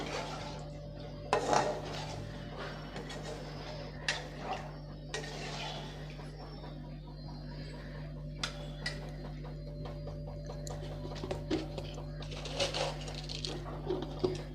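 Fish curry with tamarind is stirred in a metal pot, with scattered spoon clinks and scrapes against the pot over a steady low hum and soft bubbling, close and fairly quiet.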